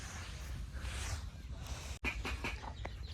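A desi hen with newly hatched chicks gives soft clucks and faint peeps over a low outdoor rumble, with a sudden brief dropout midway and a few sharper calls afterward.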